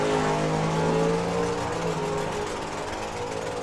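Outlaw Anglia drag car launching hard with nitrous at a drag strip, a loud close engine roar with rising harmonics that fades slightly as it pulls away.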